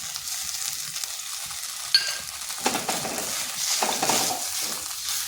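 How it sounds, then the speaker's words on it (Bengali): Potatoes get mixed with tomato sauce in a pan for a crispy potato-onion snack, with close, uneven stirring scrapes and a soft sizzle underneath. "আলুর সাথে ভালো করে টমেটো সসটা মিশিয়ে নিচ্ছি।"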